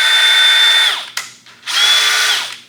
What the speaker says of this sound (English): I actually got a corded drill, like a big 1/2-inch drill